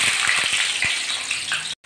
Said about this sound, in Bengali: এখন আমি আলুগুলো ভাজতে দেবো বড়ি ভাজা তেলের ভিতরে